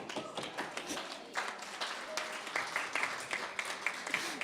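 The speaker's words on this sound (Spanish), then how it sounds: "¡Un aplauso!" Audience applause at a book presentation in Galicia, crowd clapping steadily and fairly loud, with scattered voices and murmurs mixed in.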